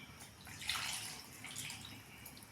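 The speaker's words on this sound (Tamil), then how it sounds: "இப்போ இன்னும் வேணுனாலும் தண்ணி ஊற்றிக்கிங்க" Water splashes and pours briefly into a pot of brinjal tamarind curry, a short burst of liquid noise that swells and fades within a couple of seconds.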